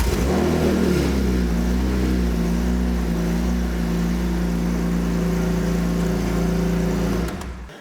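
A BMW M3 E46 CSL engine running with no silencer fitted, a loud, steady, droning exhaust note with a slight rise in revs near the start, heard close and alone before it cuts off.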